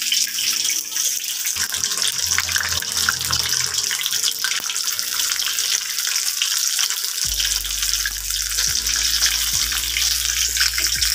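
Chicken pieces deep-fry in hot oil with a loud, constant frothy hiss, close and unbroken for the whole stretch, over faint low background music.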